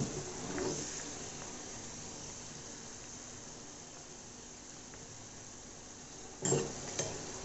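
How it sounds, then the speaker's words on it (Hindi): Corn kernels cooking in a hot pan for spicy masala corn give a faint, steady sizzle, with a couple of brief sharp bursts near the start and near the end. "कॉर्न थोड़े से फटने लगे हैं, हम इन्हें एक प्लेट से ढक देते हैं"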